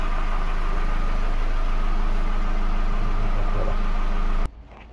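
A VW Polo engine idles steadily with a constant low hum and mechanical buzz during an oil change, close and unbroken, then cuts off abruptly near the end.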